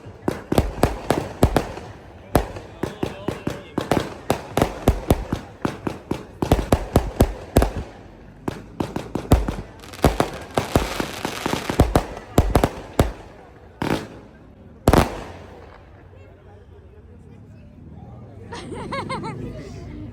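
Firecrackers crackle and pop in rapid, loud bursts outdoors at a Sikh nagar kirtan procession outside a gurdwara, followed by a few sharper bangs, with a crowd chattering in the background.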